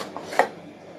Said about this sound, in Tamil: இதை நீங்கள் இப்படி கட் பண்ணிக்கோங்க சின்ன சின்ன சின்ன துண்டாக கட் பண்ணி